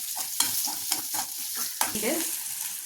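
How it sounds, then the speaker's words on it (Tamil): Onions sautéing in butter in a pan for paneer butter masala, with a steady close sizzle and rhythmic spatula stirring strokes scraping through it. "இதுலேயே நம்ம வந்து இப்போ வெங்காயத்தை போட்டு வதக்க போகிறோம்."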